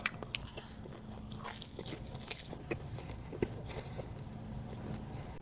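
Crunchy garlic knot from a pizza order being bitten and chewed close to the mic, soft repeated crunches and mouth sounds over a quiet background, no talking.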